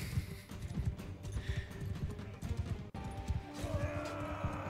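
Horse hooves thud in a rapid irregular galloping rhythm in Mount & Blade II Bannerlord, close and moderately loud, with a brief crash midway and a faint tonal hum underneath.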